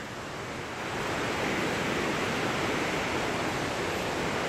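High Falls waterfall in DuPont Forest, a broad, steady roar of rushing white water, loud and unbroken, heard alone with no voices.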